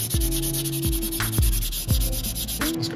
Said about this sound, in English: we'll do a little sanding on this and see what turns up